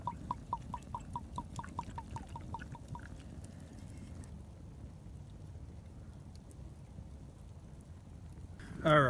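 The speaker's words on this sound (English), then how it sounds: "Let's stir that up. Little Buffalo Trace," A spoon stirs a drink of Buffalo Trace bourbon outdoors on a winter overnight camp, clinking quickly and rhythmically against the cup at close range, then fading into quiet rustling before a brief loud scrape.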